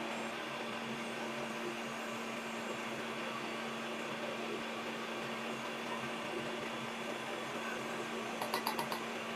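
An electric mixer beats meringue while white sugar is gradually added, giving a steady, even motor whir that runs continuously and close by, with a few faint clicks near the end.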